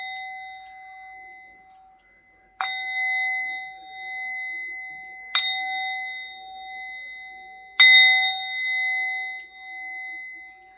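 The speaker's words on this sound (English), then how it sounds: "But when I use my sound bowl" A sound bowl struck three times at even intervals, each strike a bright ring that sustains with steady humming overtones and slowly fades between hits, alone in a quiet room.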